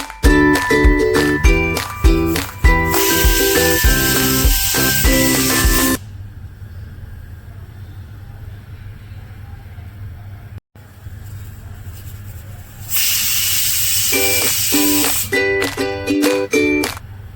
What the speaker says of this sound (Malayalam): ഇതിലിപ്പോൾ 3 വിസിലും കേട്ടിട്ടുണ്ട്.